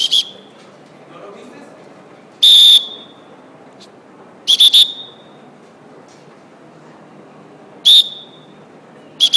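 Short, piercing dog training whistle blasts sound a few seconds apart, some doubled, loud and close over a quiet outdoor background.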